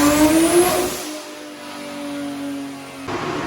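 A car engine on a dyno during the first pull of the day at a performance shop climbs in revs for about a second, settles into a steady mid-pitched drone, then swells loud again at the end.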